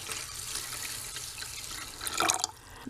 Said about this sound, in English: So I'm just going to fill it up with water.